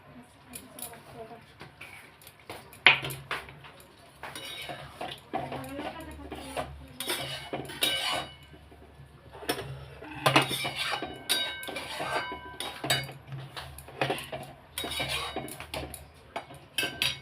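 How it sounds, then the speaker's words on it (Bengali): A spoon stirs ghee and garam masala in a pot, with close metallic scraping and clinking in uneven bursts while a person talks over it. "এই দিয়ে দিলাম ঘি, একটু গরম মশলা দেবো, দিয়ে নাড়িয়ে আপনাদের দেখাচ্ছি"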